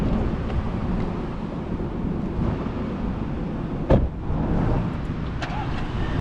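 Steady road and wind rumble from a 2023 Audi A5 Sportback cruising on the road, a continuous low drone with a brief knock midway and no talk.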